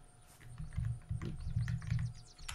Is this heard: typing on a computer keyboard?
yes